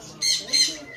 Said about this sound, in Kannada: birds of paradise